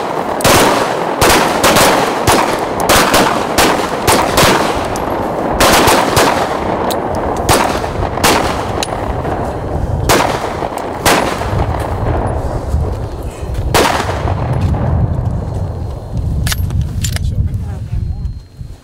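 Sharp handgun shots from a concealed carry shooting drill crack out in quick irregular bursts, loud and close, with voices talking between the volleys.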